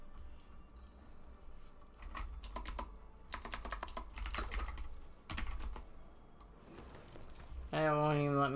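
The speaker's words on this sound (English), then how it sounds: "Why is my keyboard typing like that?" Rapid computer keyboard typing in irregular bursts, close and fairly loud, during a Diablo 4 gaming session where the keyboard is malfunctioning; a brief tonal sound from the game cuts in at the end.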